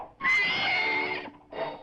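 A horse whinnies loudly and close, a long shrill neigh followed by a shorter second call.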